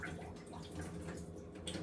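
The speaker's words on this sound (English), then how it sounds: "I'm going to pour this juice off to right there." Juice being poured off from an opened can in a home kitchen, a steady liquid trickle and splash running continuously at close range with no talking.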